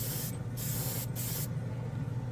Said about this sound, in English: Nice and even spray.